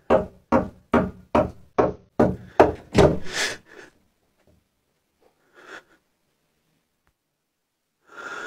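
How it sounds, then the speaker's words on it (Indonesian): Someone raps on a house's wooden door at night: about eight sharp, evenly spaced knocks, close and loud. Faint breathing-like sounds follow in the quiet afterward. "Terdengar jelas suara pintu rumahnya seperti ada yang mengetuknya."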